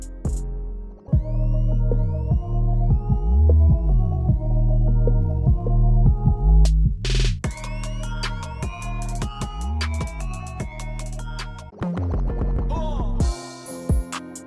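Trap beat from the video game Travis Strikes Again, with a booming, throbbing bass and crisp rapid hi-hat-like ticks, playing loudly and continuously and shifting patterns partway through.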